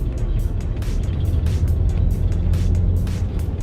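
A Porsche Cayenne engine hums steadily while driving in afternoon traffic, a low continuous cabin rumble with slight rises in revs, heard under someone talking.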